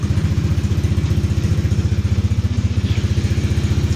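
Honda Click scooter engine running steadily at idle with a rapid, even low-pitched putter throughout, close and fairly loud with no talking.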